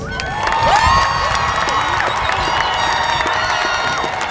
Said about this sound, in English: Audience, please join me in a round of applause to acknowledge our graduates.